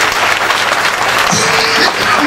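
A crowd at a political gathering in Côte d'Ivoire marking the release of Laurent Gbagbo breaks into loud, dense, continuous applause. The clapping is close and fills the whole moment, with some cheering mixed in.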